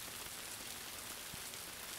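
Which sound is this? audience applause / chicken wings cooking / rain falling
rain falling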